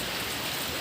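Light drizzle falls in a steady, soft, hissing patter with no voices, lasting under a second.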